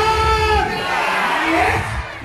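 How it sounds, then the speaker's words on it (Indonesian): A crowd at a local gathering in Kalabakan cheers and shouts for Mamun Haji Selamat, a brief loud burst of voices and whoops that fades slightly toward the end. "berikan tepukan"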